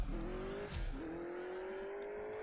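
A race car launches without nitrous in the mobile racing game CSR2, its engine note rising steadily in one continuous rev with a brief dip at a gear change, loud and close with no talking over it.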